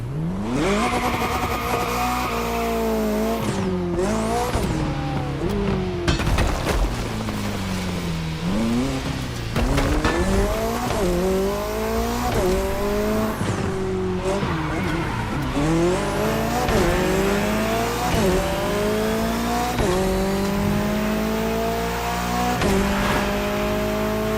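Racing cars in The Crew Motorfest roar through a race, engines revving up and down in repeated sweeps, with tires squealing and skidding through corners; a voice is briefly heard over the steady, loud engine noise.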